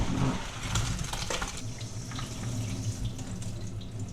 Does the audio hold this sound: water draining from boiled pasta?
yes